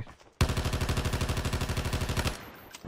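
Rapid automatic gunfire rips at a tank in Call of Duty Mobile battle royale, a loud, evenly spaced burst of about two seconds that starts abruptly and then cuts off.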